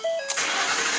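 A 2011 Ford F-150 FX4 fitted with a Spectre 9976 cold air intake, cranking briefly with a starter whine before the engine catches into a loud, close, steady idle; no talking.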